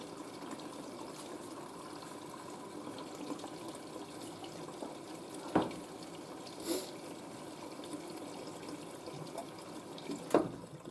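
A washing machine drains, water flowing and gurgling steadily at moderate volume, with a few brief clunks and splashes standing out.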